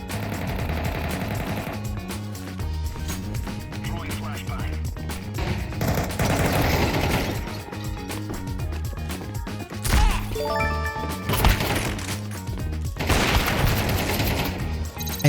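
Zeus taser fired in the video game Counter-Strike 2, amid a busy mix of sharp gunfire-like cracks, bursts and impacts with music-like tonal layers, loud and close throughout.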